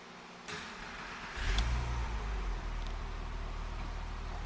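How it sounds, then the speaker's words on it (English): A 2000 Porsche 911 Carrera 4 with 15,000 original miles starts up close by: a short crank and catch, then a steady, low idle rumble that carries on alone with no talk. "I'm going to start the car just so you can hear it run."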